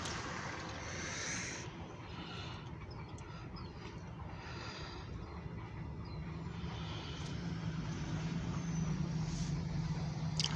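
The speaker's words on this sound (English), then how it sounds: "There's a UPS truck right there." A UPS delivery truck passes beside a rail line in Oil City, Pennsylvania, making a steady broadband road rumble whose low engine drone grows louder and closer toward the end, with no talking.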